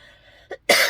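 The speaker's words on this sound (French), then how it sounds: "Oh, j'ai mal à mes épaules quand je tousse." A single sharp cough bursts out near the end, preceded by a small throat sound and faint tonal hum; close and loud.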